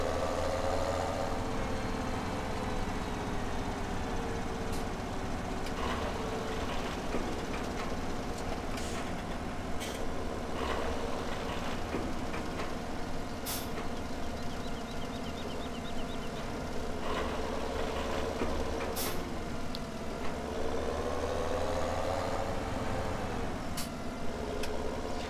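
A steady, continuous drone from a 390-horsepower Fendt tractor engine in Farming Simulator, the second-biggest tractor on the farm, holds an even level throughout with faint knocks and shifts, and no talking.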